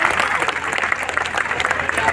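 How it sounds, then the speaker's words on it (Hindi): Outdoor crowd at a patriotic unity march clapping in tribute, a brief loud burst of thunderous applause with crowd noise and voices mixed in. "जोरदार तालियों की गड़गड़ाहट करेंगे"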